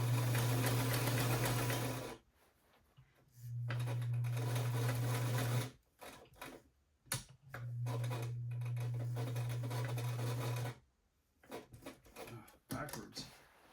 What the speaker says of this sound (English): Sewing machine doesn't like that at all.